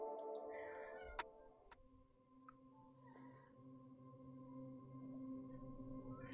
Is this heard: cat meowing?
yes